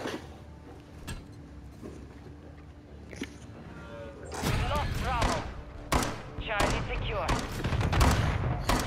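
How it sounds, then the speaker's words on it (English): Sentry gun firing in a multiplayer shooter match, rapid bursts of gunshots that grow louder and denser midway, mixed with game effects and excited voices talking over them. "And the sentry gun got him."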